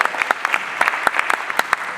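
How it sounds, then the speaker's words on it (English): Steady applause from a modest group, dense clapping with a few sharper individual claps popping out, no voices. "Please give her another round of applause."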